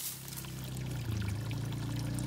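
Water poured steadily, a continuous close pouring rush with a low hollow tone, running without pause and no talk.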